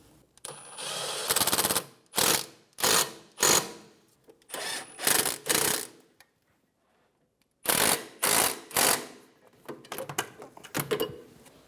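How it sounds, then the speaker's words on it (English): Brake caliper bracket bolts on a 2003-2007 Infiniti G35 snugged down with a ratchet, a close series of short bursts of clicking that come in groups with brief pauses between, alone. "Snug down the bracket bolts."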